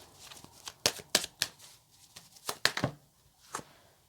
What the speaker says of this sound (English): Just give it one more shuffle.